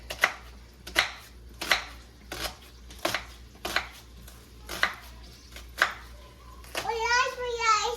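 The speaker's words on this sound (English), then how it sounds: "But I'm just going to chop up the onions now." Onions chopped with a knife on a board at home: eight evenly spaced, crisp chops about one per second, followed by a voice at the end.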